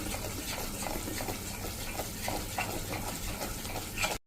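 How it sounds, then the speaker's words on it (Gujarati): Ragi flour being stirred continuously in ghee in a pan over a slow-to-medium flame, a steady close scraping and soft sizzling hiss with faint spoon knocks throughout. "આ રીતે કન્ટિન્યુ ચલાવતા આપણે એને ઘીમાં કૂક કરી લેશું."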